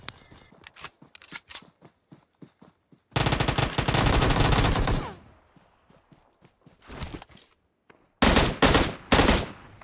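Bursts of M16 rifle fire in PUBG Mobile: scattered single shots, then a long sustained automatic volley, followed by shorter rapid bursts and footsteps between the firing.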